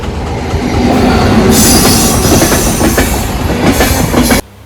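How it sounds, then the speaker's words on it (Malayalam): A train passes close by, loud and continuous, with rumbling wheels, rhythmic clickety-clack and a sharp high squeal, before cutting off abruptly near the end. "ട്രെയിൻ പോയ സ്ഥിതിക്ക് ഇനി ഞങ്ങൾ വണ്ടി എടുത്തു പോട്ടെ"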